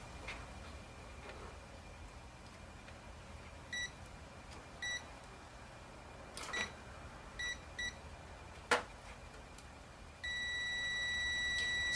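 A multimeter on continuity test gives faint, short electronic beeps in scattered bursts, ending in a sustained tone, against quiet room noise.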